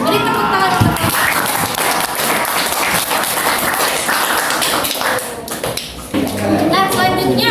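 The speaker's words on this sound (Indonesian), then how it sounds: "Beri tepuk tangan." A classroom audience applauds with dense, continuous clapping that dips briefly and then resumes, with some voices mixed in.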